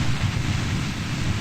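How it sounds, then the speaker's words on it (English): A small but loud rocket engine in the spaceflight game Kerbal Space Program gives a steady, dense roar with a deep rumbling low end. The roar is close and continuous, with no pauses and no voices. "that engine, man, it's small but it's loud"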